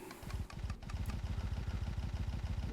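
Radial engine block from the Minecraft Create TFMG mod running at high speed, a fast, even mechanical chugging pulse that holds steady and close throughout.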